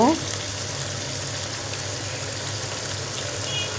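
Meat and potatoes with crisp fried onions are stirred and fried in a pan, making a steady, even sizzle close up that holds at the same level throughout.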